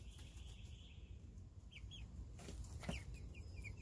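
Chickens cluck softly in a backyard vegetable garden, a few short calls scattered over steady outdoor background noise, with no talk.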